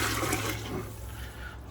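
Chicken stock pours into a pot of potato cheddar bacon leek soup, a steady close splashing rush of liquid that tapers off after about a second, with no talking.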